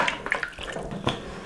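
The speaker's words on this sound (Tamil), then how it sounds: "இப்போ ஒரு செம்பு தண்ணியை ஊற்றி" Water poured from a pot into a pressure cooker holding beef with salt, turmeric and ginger-garlic paste for Bakrid beef biryani: a short, uneven splashing gush at close range, with no talk.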